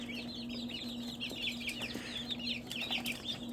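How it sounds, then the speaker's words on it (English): Chickens in a coop on a homestead cluck and chirp constantly, several birds at once, mid-distance, over a steady low hum. "There's 3 ugly chickens in there."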